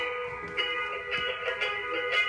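A rhythm guitar strums simple sustained triad chords alone, with a few soft re-attacks over a couple of seconds, no voices.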